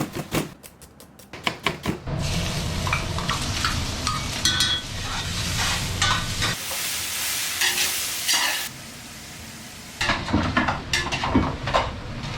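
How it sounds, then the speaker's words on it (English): Tomato rice paste cooks in an Indian restaurant kitchen in Japan, with loud stirring scrapes and hissing sizzle; a few sharp knocks open it, then a steady frying roar with a brief drop before resuming. "So I'm making the tomato rice paste."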